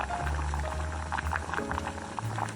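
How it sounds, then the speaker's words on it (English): Beef short rib bone broth simmering in a pot, a soft continuous bubbling with low gurgles and small pops, close and quiet, no talking. "We continue to simmer"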